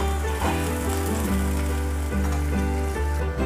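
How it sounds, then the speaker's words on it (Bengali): Chopped onions sizzle and crackle steadily in hot oil, frying until crispy for a mutton korma, a close, continuous hiss with no voices. "পেঁয়াজটা প্রথমে ভালো করে ভেজে খুব ক্রিস্পি করে ভেজে নিতে হবে পেঁয়াজটা"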